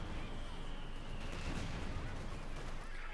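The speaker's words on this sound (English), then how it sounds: "Artillery and everything else just being unleashed." Artillery and gunfire from a Company of Heroes 2 multiplayer battle, with dense, continuous rumbling booms and crackling shots blending into a muddy wall of distant combat noise.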